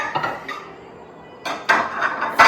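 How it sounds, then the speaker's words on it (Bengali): A new dinnerware set being taken out, with plates clinking: a few light ceramic taps, a quiet pause, then louder bright clatters close by. "আমি ভাবলাম যে একটু নতুন ডিনার ওয়্যার সেটও বার করি"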